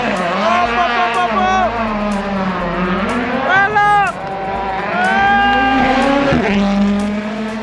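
Rally cars at the 2025 Acropolis Rally race past one after another, their loud engines rising and falling in pitch as they approach, roar by and shift gears, with a brief tyre screech among the passes.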